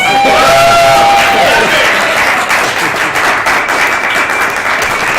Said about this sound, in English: You guys can continue clapping for us.